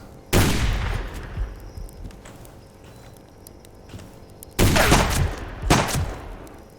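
Rifle gunfire in a video game: a sharp shot opens, then after a pause two loud bursts of rapid shots ring out close by, with a faint rumbling background between them and no talk.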